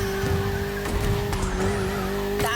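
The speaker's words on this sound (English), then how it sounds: "Ferrari 488." Ferrari 488 racing at speed in The Crew Motorfest, a steady loud engine drone with tire squeal and skidding over the sustained roar, a brief sharp burst near the end.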